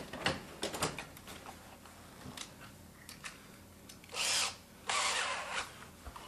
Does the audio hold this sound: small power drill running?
yes